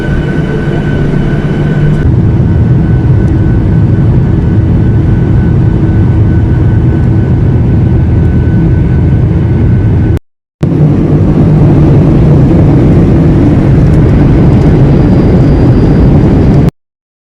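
Steady, loud, broadband engine roar fills an airplane cabin, continuous and droning with a low rumble, briefly cutting out near the middle before resuming unchanged.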